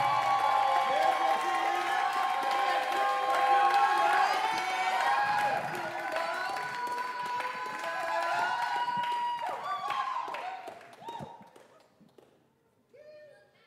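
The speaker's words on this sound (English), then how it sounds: "Let's give Mr. Cameron Washington a round of applause." An audience applauds a performer at a student honors day recital. The clapping is sustained and fairly loud, mixed with sustained tonal sound, and thins out and fades near the end.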